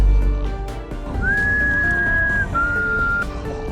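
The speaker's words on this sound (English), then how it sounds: "a familiar whistle echoed." A person whistles a clear sustained tone, first a long held high note and then a slightly lower one, over a steady low background hum.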